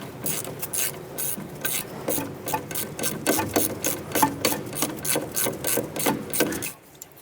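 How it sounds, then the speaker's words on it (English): A ratchet with a 10mm socket loosens an ABS wire bracket bolt during front strut replacement on a 2008-2012 Honda Accord, giving close, rapid clicking strokes in a steady rhythm before stopping. "Using a 10mm socket, let's go ahead and loosen and remove this bolt right here for our ABS wire bracket"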